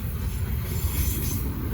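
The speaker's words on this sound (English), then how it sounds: "First time seeing 911 and that safety train." Norfolk Southern freight train NS 975 with locomotive 911 leading rolls past close by on the Charlotte District, a steady heavy rumble of wheels and cars with faint high squeal and no voices.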